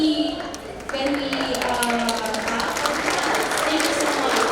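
Lecture audience clapping for a guest speaker, a dense steady wash of many hands that fills the whole stretch at close range, with a voice briefly heard near the start.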